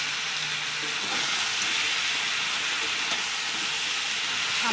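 Fish heads frying in a pan of cooked-down spiced masala, a steady close sizzle and hiss with faint stirring, no talking.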